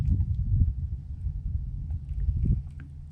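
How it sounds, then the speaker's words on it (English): A trolling motor runs on a fishing boat at a river channel bend while catfishing, giving a steady, close low hum and rumble with faint water wash throughout and no talk. "to turn my trolling motor on"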